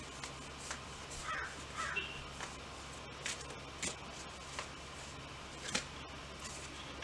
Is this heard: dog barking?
no